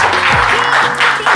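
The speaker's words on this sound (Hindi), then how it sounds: "तालियां होनी चाहिए" A brief round of applause from a group gathered at a team meetup, close and fairly loud clapping with some voices mixed in.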